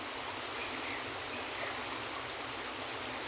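River water flowing, a steady broadband rush with no breaks, close and moderately loud, like a stream running over rocks.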